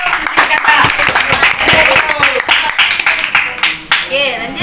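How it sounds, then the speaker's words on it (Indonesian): An audience at a SAPA Al-Hijrah presidential election event applauds a presidential candidate, scattered claps sounding under loud, overlapping voices. "tepuk tangan dong untuk capres"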